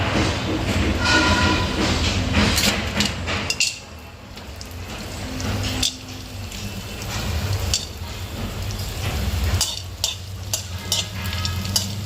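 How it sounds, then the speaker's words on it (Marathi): Asafoetida fries in peanut oil in a pan with a steady sizzle. The sound carries clinks and stirring scrapes, dips briefly partway through, then resumes, close and fairly loud. "आता आहे ना हिंग मी तळून घेणार आहे"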